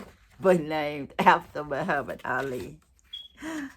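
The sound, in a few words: smoke detector backup battery chirping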